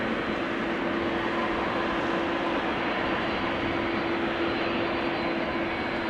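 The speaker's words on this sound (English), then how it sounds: "Emirates flight 146 coming this way after Dubai." An Emirates jet airliner arriving from Dubai approaches Amsterdam Schiphol Airport, its engines a loud, steady, unbroken roar throughout.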